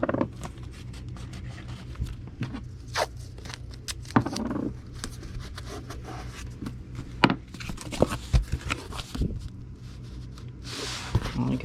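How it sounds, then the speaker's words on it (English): Tape is pulled and pressed down around a comic book being packaged for shipping, giving close crinkly rustles and soft taps in irregular bursts with no talk. "We just tape it down."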